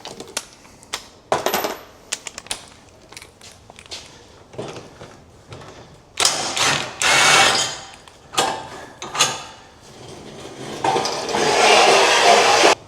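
A battery-operated power tool backing bolts out of a new bike's shipping crate, with short whirring bursts and clattering metallic clicks between them, growing louder and longer toward the end.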